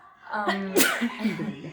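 A single sharp sneeze from a woman bursts out mid-speech, close and loud, with talking just before and after it.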